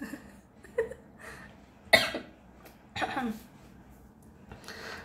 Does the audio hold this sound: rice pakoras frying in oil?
no